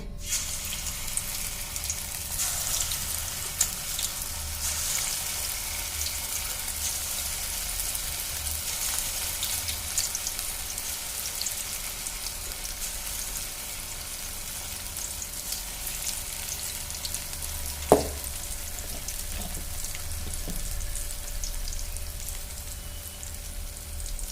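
Vada batter made from leftover idli batter frying in reused hot oil in a kadai, a steady broadband sizzle running throughout with a brief sharp clatter near the end, no voices.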